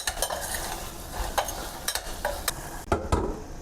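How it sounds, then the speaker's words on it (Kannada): Salt and sugar being stirred into a sizzling mixture in a frying pan for a quick rice dish, a spoon scraping in bursts over a steady fry, with sharper clinks near the end. "ಹಾಕಿ ಮಿಕ್ಸ್ ಮಾಡ್ಕೊಳ್ಳಿ ಚೆನ್ನಾಗಿ."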